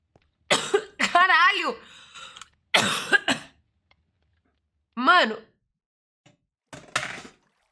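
A woman coughs several times in separate rough bursts with pauses between, close to the microphone, with a throat-clearing quality and a hoarse, scratchy edge.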